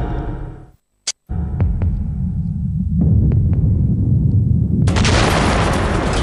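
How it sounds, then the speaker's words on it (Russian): Explosion in the torpedo compartment of the Russian nuclear submarine Kursk: a low rumbling hum cuts to silence, a sharp crack hits, then a deep booming roar swells and a harsh blast surges in near the end. "взрыв разносит торпедный отсек гигантской русской подводной лодки «Курск»"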